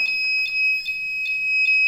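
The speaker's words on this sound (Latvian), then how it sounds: "signalizācija sāk skanēt šī skaņa, pat ja cilvēks ir nogājis no šī objekta signalizācija turpina skanēt" An ESP32-CAM security system alarm sounds as a piercing, high electronic beep repeated about every 0.4 seconds, steady and alone with no voices.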